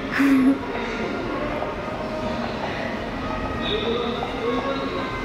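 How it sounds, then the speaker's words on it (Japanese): A train rumbles steadily at Mojiko Port in Fukuoka, Japan, with a continuous low mechanical drone and occasional high squeals and tones, heard from inside or nearby. "電車"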